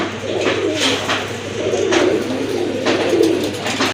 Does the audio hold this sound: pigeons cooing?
yes